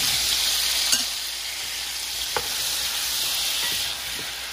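Mini mushrooms fry in butter in a pan, giving a steady, close sizzle with faint hiss and a few soft clinks of stirring throughout.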